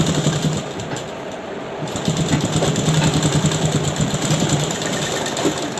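A tailor's sewing machine stitches along the edge of a trouser cross pocket, a loud, steady mechanical whirr with a fast rhythmic needle chatter that runs unbroken and close.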